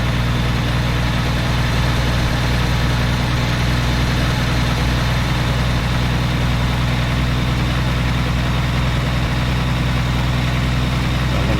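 A big rig's diesel engine idles in the 18 Wheels of Steel trucking game, a steady low rumble holding one even pitch throughout with no talk over it.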